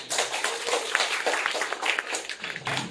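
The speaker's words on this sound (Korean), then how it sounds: "박수로 맞이해 주시면 감사하겠습니다." A university debate audience in Korea gives a dense round of applause to welcome a team onto the stage, with continuous overlapping claps and little talking.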